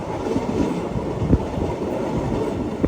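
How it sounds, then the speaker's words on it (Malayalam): Passenger train pulling into Thiruvananthapuram Pettah railway station in Kerala, a steady loud rolling rumble with a few rail knocks, close and continuous with no talking. "നമ്മുടെ ട്രെയിൻ എത്തിക്കൊണ്ടിരിക്കുകയാണ്"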